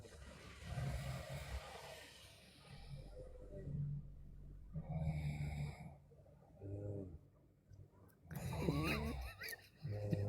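Snoring comes over an online call, several rough, rasping breaths in an irregular rhythm, fairly faint and compressed, with other voices from the call mixed in.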